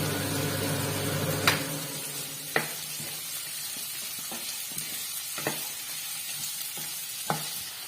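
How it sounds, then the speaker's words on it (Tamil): Cashews and other ingredients sautéing in a kadai for a Tamil mushroom gravy, a steady soft sizzle broken by a few sharp scrapes and taps of a spoon stirring the pan, close and fairly quiet. "இது எல்லாத்தையும் கொஞ்சம் நல்லா வதக்கிக்கலாம்"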